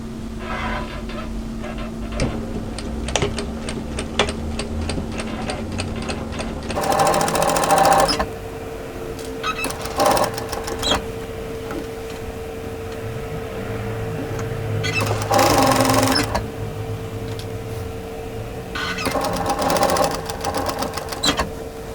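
A sewing machine stitches just in from the edge of the fabric for a tee shirt or dress. It runs in several rhythmic bursts of rapid needle chatter, close and clear, with short pauses between the runs.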